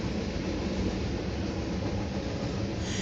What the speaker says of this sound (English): It's probably gonna be a garbage train